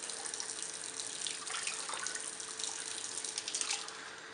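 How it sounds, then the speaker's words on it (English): Water streams steadily into a pan for bread dough, a continuous soft hissing trickle with small splashes, quiet and close, no one speaking. "I drop my water in such a way that I try to get very little water up the edges of my pan"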